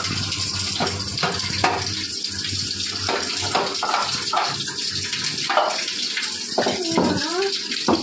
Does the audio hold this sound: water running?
yes